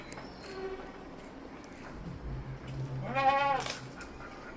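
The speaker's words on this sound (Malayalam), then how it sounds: "ഈ ഒരു ആട് വിൽപ്പനക്കുള്ളതാണ്" A large goat, about four months pregnant and kept for sale, gives one short wavering bleat at a moderate distance over quiet outdoor background noise, with no talking.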